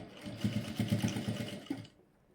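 Sewing machine stitching darts on the front part of a blouse, a quick run of rhythmic mechanical thumps for about two seconds before stopping, close and clear with no voices.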